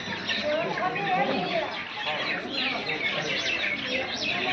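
Roosters clucking and calling at a gathering in Giridih, Jharkhand, where people hold their own birds, steady chatter of fowl mixed with loud voices talking over them throughout.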